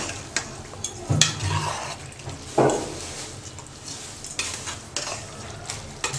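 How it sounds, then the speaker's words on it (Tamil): Basmati rice and vegetables stirred in a pan for Tamil-style vegetable rice, a few scraping strokes with soft sizzling underneath, close and moderately loud, no talk. "கொஞ்சம் லைட்டாக மிக்ஸ் பண்ணி விட்டுடலாம்."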